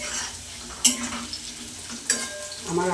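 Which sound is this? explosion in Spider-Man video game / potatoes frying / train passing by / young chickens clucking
potatoes frying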